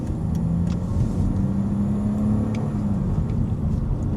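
A Porsche GT4 with a cold air intake drones steadily from inside the cabin, a continuous low engine rumble with road noise and no talk.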